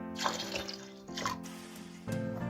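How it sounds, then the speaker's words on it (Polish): Liquid jelly poured into condensed milk in a bowl for a layered holiday dessert, heard as a continuous watery pouring and splashing that swells and eases in a few surges. "Do miski wlewamy mleko skondensowane. I dolewamy galaretkę"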